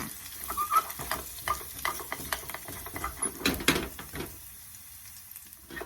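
Spices fry gently in oil over low heat for a Thai pork stew, stirred with a utensil that scrapes and clinks irregularly over a soft, close sizzle, with no talk.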